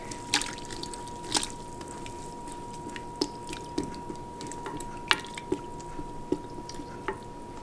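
Boiling pickling liquid poured and stirred over pickles and pickling spice in an old-fashioned crock: a quiet bed of liquid noise broken by scattered drips, splashes and soft squishing knocks.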